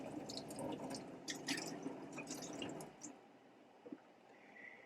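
A hard shaving soap puck is rinsed under water, making faint wet splashing and dripping noises that fade out near the end and are followed by a couple of small drips.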